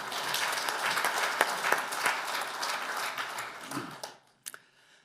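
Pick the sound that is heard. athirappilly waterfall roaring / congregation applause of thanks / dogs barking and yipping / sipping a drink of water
congregation applause of thanks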